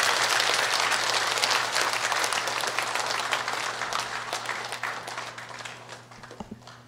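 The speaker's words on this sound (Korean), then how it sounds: "다시 한번 뜨거운 환영의 박수로" A church audience in Busan applauds to welcome a Catholic priest, giving a dense, loud burst of clapping from many hands that slowly thins and fades over about seven seconds to a few scattered claps.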